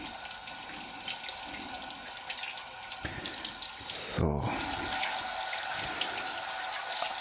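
Hands are rinsed under a running kitchen tap in steady flowing streams, with a brief burst of splashing and a single spoken word near the middle.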